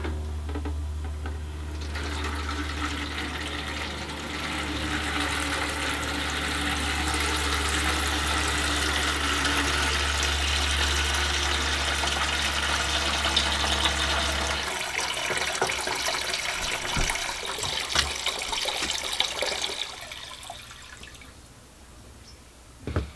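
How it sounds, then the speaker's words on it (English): Water drains from the expansion vessel of a home heating system as a steady, hissing rush with a low hum underneath, later breaking into gurgling and dripping as the flow fades. "Nu kunnen we het expansievat leeg laten."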